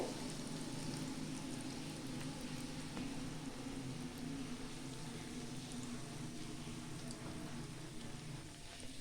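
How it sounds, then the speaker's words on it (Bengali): Bengali vegetable chops fry in oil over a medium-to-low flame, giving a soft, even, continuous bubbling hiss that stays steady and fairly quiet from start to finish, with no voices. "আর মিডিয়াম টু লো ফ্লেমে ভাজছি।"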